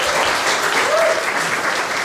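Steady applause from an audience at an organisation's annual general meeting, a dense continuous clapping that fills the whole moment at close range.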